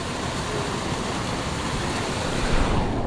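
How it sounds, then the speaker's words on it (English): A waterfall in Holly River State Park, West Virginia, sends up a continuous dense roar of rushing water, loud and close, steady throughout with no voices. "I think I might have to explore that waterfall a little bit."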